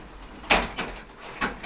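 A bedroom sliding door slides and catches on a screw in its track, producing a few scraping bursts with short pauses between them, moderately close.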